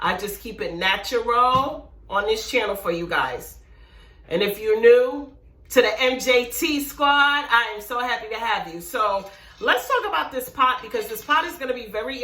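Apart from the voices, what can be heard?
None of the usual background noises is heard.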